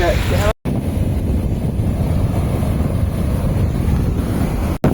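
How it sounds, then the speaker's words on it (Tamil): Sea waves crash continuously onto the shore at Manapadu beach, a dense, steady roar heavily mixed with buffeting wind noise on the microphone, broken by a brief dropout near the start. "பாருங்க எவ்வளோ அலை அடிக்குது பார்த்துக்கோங்க."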